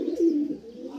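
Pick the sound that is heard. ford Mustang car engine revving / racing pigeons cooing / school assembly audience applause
racing pigeons cooing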